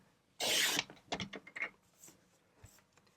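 Cardstock sliced with a paper trimmer: one loud broadband swish of the blade, followed by several shorter clicks and rubbing sounds from the trimmer mechanism, close and alone with no talking.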